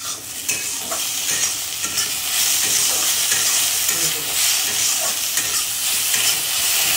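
Food fries in a home kitchen pan, a loud, continuous crackling sizzle with busy popping and stirring scrapes running steadily throughout, close up.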